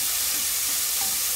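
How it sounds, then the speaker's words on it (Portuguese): Bacon fries in a hot pan, giving a dense, steady crackling sizzle close up with no pauses. "Vou puxar primeiro o bacon aqui."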